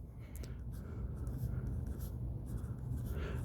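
A pen or pencil scratches on paper in short irregular strokes, close and fairly quiet over a low background hum, with no talking.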